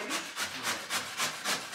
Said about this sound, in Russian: Что-то режут, что-то пилят.